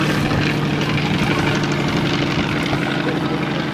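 A Fokker triplane flies at an air show, its propeller engine giving a loud, steady droning roar that holds throughout at close range.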